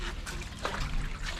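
Water dripping and trickling from a roof edge onto the ground near a fish tank, a soft continuous splashing patter, fairly close but quiet, with no talk.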